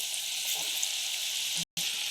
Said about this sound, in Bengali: গ্যাসটিকে লো ফ্লেমে রেখে পুরোটা আমরা ভেজে নিচ্ছি